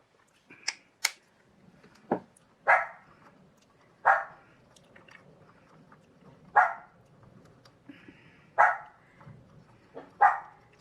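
Dogs barking during a thunderstorm, a series of about eight sharp separate barks spaced across the stretch, moderately close and loud, with quiet background between them and no talking.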